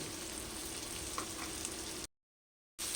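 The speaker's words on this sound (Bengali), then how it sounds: "মশলাটা ভালো করে এবার কষে নেবো" Spice paste for chicken sautéing in oil, a steady close hiss and sizzle with faint stirring, cut by a brief silent gap before the frying noise resumes.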